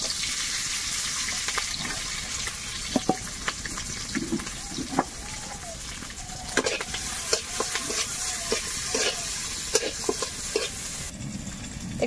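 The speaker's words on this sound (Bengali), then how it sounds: "পেঁয়াজ আর লঙ্কাটা একটু ভেজে নিয়েছি" Onion and green chilli fry in oil in a wok, a loud continuous sizzle broken by scraping and stirring clatters, with no one speaking.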